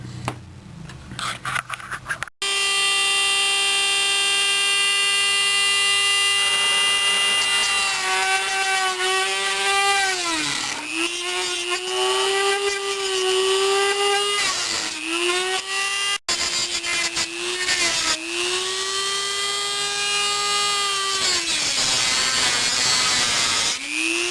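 Dremel rotary tool cutting through plastic with a guard fitted, a loud, steady high whine that dips and rises in pitch as the bit bites into the material, with brief pauses between cuts.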